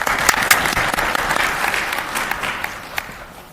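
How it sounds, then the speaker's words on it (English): Audience applause at a nursing and midwifery employer showcase, a lively round of clapping with crisp individual hand claps that gradually tapers off over a few seconds. "If we could give Corey a round of applause."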